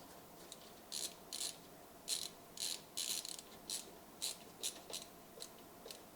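A screwdriver turns a small screw into the metal bracket of a Sapphire RX 7900 XTX Nitro+ graphics card, giving about a dozen quiet, close ratcheting clicks in an uneven rhythm with no talk.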